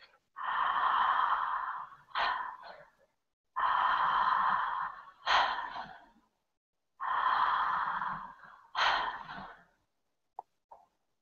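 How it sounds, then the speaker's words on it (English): Three slow, deep circular breaths, each a long airy inhale followed by a shorter, sharper exhale, close and clear in a quiet room with pauses in between. "Taking a couple more deep circular breaths."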